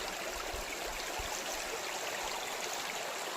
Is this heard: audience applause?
no